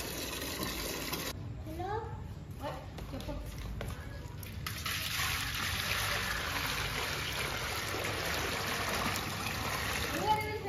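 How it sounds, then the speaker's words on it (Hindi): Water pours and trickles as it is filled for goats to drink outdoors, a steady rushing splash that grows slightly fuller midway, with a voice talking over part of it. "बकरों के लिए पानी भरो पानी पिलाते हैं उनको ठंडा"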